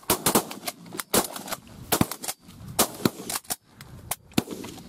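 Shotgun blasts during a goose hunt in an open field, fired in a rapid irregular volley of many sharp loud reports across a few seconds, close by, with no talk.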